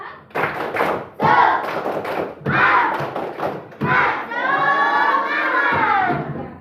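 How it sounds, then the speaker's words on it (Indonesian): Schoolchildren in an Indonesian classroom performing the rhythmic 'tepuk semangat' clapping chant, bursts of group claps and thumps alternating with loud unison shouted syllables, ending in a sustained group cheer. "Tepuk semangat."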